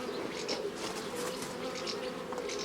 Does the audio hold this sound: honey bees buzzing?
yes